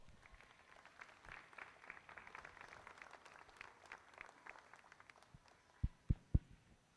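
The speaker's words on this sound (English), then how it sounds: "Please join us in giving him a round of applause." Faint, distant applause ripples through a crowd at the Kentucky State Fair goat show, soft and thin, ending with a few louder close thumps near the finish.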